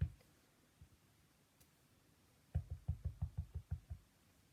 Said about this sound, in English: Oh, he's knocking.